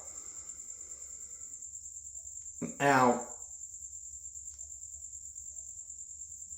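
Crickets chirp loudly and continuously as a steady high-pitched trill that runs through the whole stretch, with a brief spoken word and a short burst of voice partway through.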